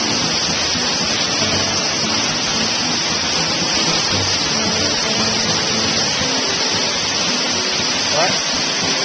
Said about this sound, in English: it's raining on us a little bit here